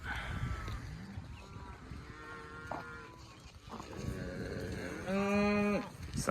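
Neighbor's cattle on a Virginia farm moo repeatedly at a middle distance, several drawn-out calls over outdoor background noise, the last one loudest and longest.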